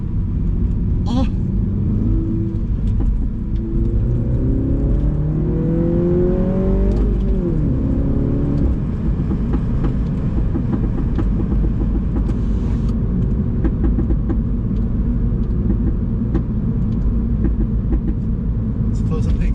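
Mini fitted with a JCW Pro Tuning exhaust revving hard up close, a dense roaring drone with pitch sweeps as revs climb and drop, scattered crackling pops, and people talking over the engine.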